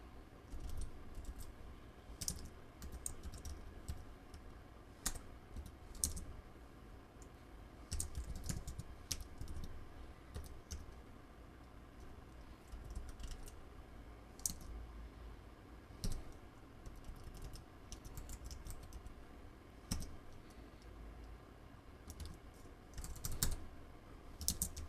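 Fingers type steadily on a computer keyboard, producing irregular runs of close, crisp key clicks with brief pauses, quiet and without speech.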